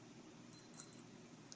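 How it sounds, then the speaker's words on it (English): A few faint, high-pitched electronic beeps from a Casio G-Shock GW-M5610 digital watch's hourly time signal, three short chirps in quick succession, over quiet background hiss. "hourly time signal and they both beep at exactly the same time every single day"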